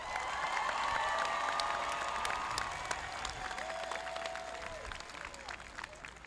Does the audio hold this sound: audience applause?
yes